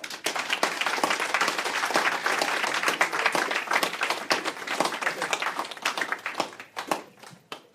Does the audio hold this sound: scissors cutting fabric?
no